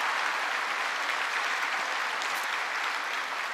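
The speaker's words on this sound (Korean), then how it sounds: "우리 목사님 축하의 박수, 감사의 박수 드립니다." Sustained applause from a church congregation for the pastor during a Sunday worship service, steady dense clapping filling the room throughout with no talking.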